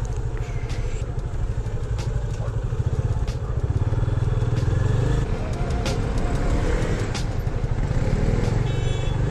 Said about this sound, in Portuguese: Quando você tá na moto e você tá passando entre os carros, você tá costurando.